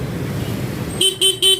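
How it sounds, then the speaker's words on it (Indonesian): Horn of an old Honda motorcycle (C70 or Astrea class) sounded during wiring tests: three short, loud honks in a quick even rhythm, following a stretch of low rumbling background noise. "Coba kita klakson."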